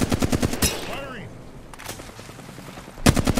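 Rapid automatic gunfire from the video game Apex Legends in a high-stakes tournament match, sharp bursts opening and closing the moment, with a player's voice calling out between the volleys.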